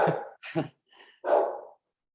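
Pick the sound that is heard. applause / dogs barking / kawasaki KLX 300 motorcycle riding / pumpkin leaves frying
dogs barking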